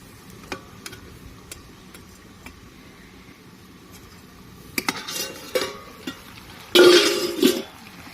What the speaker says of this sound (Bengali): এরপর ঢাকাটা খুলে দেখবো একবার